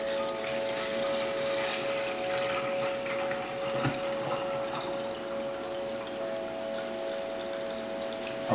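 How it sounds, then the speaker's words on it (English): Distilled water pours steadily into a tea kettle, a continuous close rushing flow with a faint tonal hum beneath it and no talking. "I'm going to take some of the distilled water and I'm going to fill up the tea kettle here."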